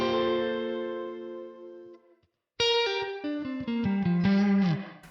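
Electric guitar played through the reverb on a Neural DSP Nano Cortex, a sustained chord ringing out and fading, then a short gap before a run of distinct picked notes, each with a lingering, spacious tail.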